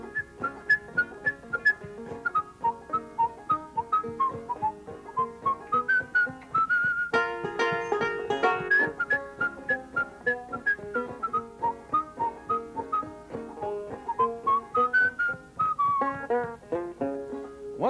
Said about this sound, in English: He was whistling this tune to himself